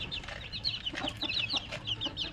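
Several chickens cluck in quick, overlapping bursts, close by and fairly steady, with no talking.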